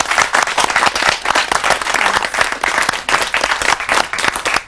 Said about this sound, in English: I think you deserve a big round of applause for that.